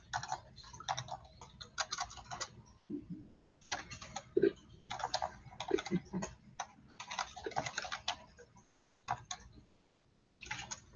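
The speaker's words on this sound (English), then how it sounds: "I'm having trouble typing as usual." Computer keyboard typing up close, a quick stream of light plastic key clicks in irregular bursts with short pauses between runs.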